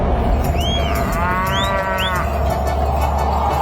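A buffalo lows in a few drawn-out calls, rising and bending in pitch, loud and close over a constant low background hum, with no one speaking.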